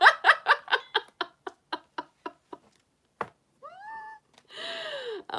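A person's voice breaks into rapid, pulsing laughter, then imitates a cat with two drawn-out meows, close and clear.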